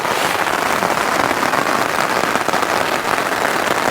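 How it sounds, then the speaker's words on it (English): Heavy, steady rain pattering loudly and continuously on a surface, close by and without pause, at a wild campsite in the Lake District. "The Lake District rain has returned."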